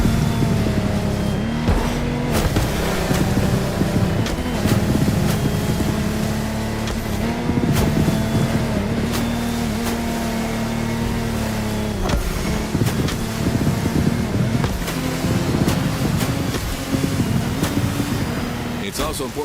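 Offshore powerboats, including a Lamborghini Technomar, race on a turbulent sea in The Crew Motorfest, their engines droning loudly and steadily throughout with a constant layered hum.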